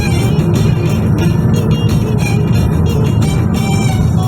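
Intercity bus bound for Bursa driving past at close range, a loud continuous engine roar and road rumble that stays steady throughout with no talk.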